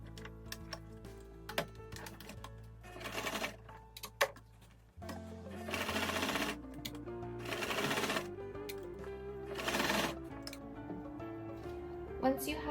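A sewing machine stitches pinned top and side pieces of fabric for a medical cap in several bursts of rapid, rhythmic needle chatter. The bursts are separated by pauses, with a speaking voice in between.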